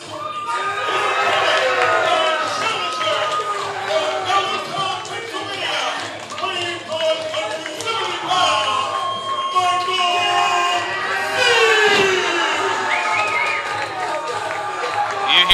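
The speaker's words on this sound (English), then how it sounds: "You hear the crowd is amped up for Michael Z" Wrestling crowd at a live pro wrestling show cheering and whooping for Michael Z, a loud dense roar of shouts and yells that rises and falls throughout.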